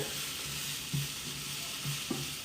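Bell peppers sizzle steadily in a hot pan while a utensil stirs them, with a few soft scrapes and clicks over the continuous frying hiss; no one talks.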